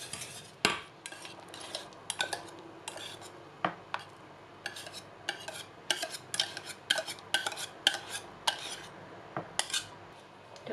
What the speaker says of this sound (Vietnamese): bây giờ trộn đều lại. Đánh cho đều ra.